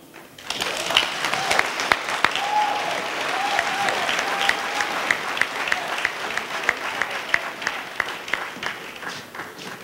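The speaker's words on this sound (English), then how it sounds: "A round of applause once again for Mr. Keith Laurie" Sustained audience applause at a People's Assembly held in Foundation School, Christ Church, Barbados, rising after a brief lull into steady, moderately loud clapping from a crowd, with sharper single claps popping through before it slowly fades.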